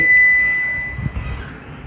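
The buzzer on a Polytron refrigerator's control module gives a single sustained, high-pitched error tone from close by. It stops partway through and leaves low handling noise behind.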